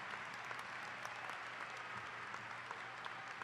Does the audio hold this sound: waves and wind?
no